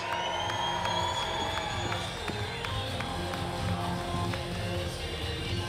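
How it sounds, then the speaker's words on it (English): A large crowd at an MMA event in a Kansas City casino applauds and cheers continuously, a dense wash of clapping and whoops with occasional sharper claps standing out. "Stand up and give yourself a round of applause."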